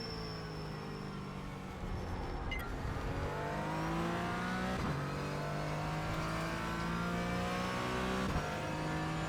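Race car engine in the iRacing sim, loud and continuous, climbing steadily in pitch under acceleration and briefly breaking off at each downshift around three points before revving up again; no voices.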